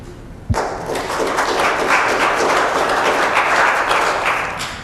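At a city council meeting in Oceanside, a sudden thump gives way to sustained applause from the audience, a broad, even roar of many hands that holds steady and slowly eases.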